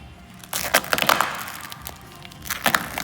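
Paint protection film is peeled off the body of a 2019 Mercedes G63 AMG, giving crackling, tearing bursts that come in two close, fairly loud runs separated by a quieter pause.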